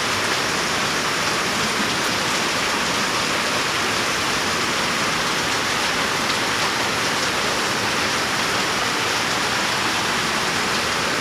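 Steady, dense rain pours down continuously, a loud even hiss with no pauses or voices.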